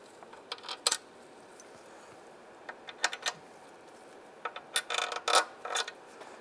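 Intake manifold bolts on a Mazda CX-9 dropped into their holes by hand, a scattered series of small, sharp metallic clinks and taps, some in quick clusters, close and fairly quiet, no speech.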